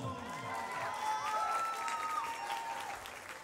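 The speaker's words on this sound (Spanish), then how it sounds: "fuerte el aplauso." Party guests applaud and cheer for the bride as her bouquet is presented, a sustained crowd clapping with a wavering tone sweeping above it, steady and fairly loud throughout.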